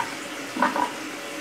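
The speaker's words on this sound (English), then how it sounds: "Let's flush the toilet, see what happens." A newly installed Smarter Flush dual-flush toilet gives a faint, brief rush of flushing water over a soft, steady hiss of running water.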